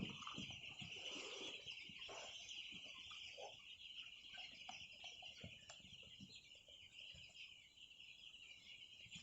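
Chickens in a coop at night give soft scattered clucks and murmurs over a steady high insect-like hum, with occasional wing rustles.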